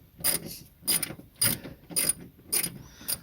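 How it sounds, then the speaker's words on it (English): A wrench works a bolt during heater core removal on a 1968 Dodge Charger, giving six evenly spaced ratcheting clicks in a steady back-and-forth rhythm, close and clear. "Or you can use a wrench."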